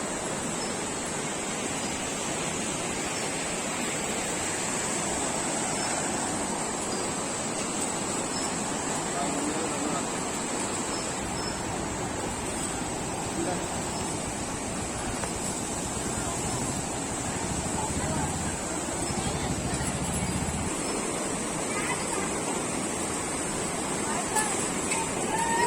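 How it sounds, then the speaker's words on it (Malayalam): Steady roar of falling water at Karinkappara waterfall, a constant broadband rush that fills the whole scene with no breaks, loud and close throughout. "നമ്മളുള്ളത് കരിങ്കപ്പാറ വെള്ളച്ചാട്ടം"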